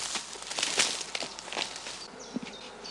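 Bees buzz around beehive boxes at an apiary in Germany, a fluttering drone of several insects close by, swelling and fading as individuals pass.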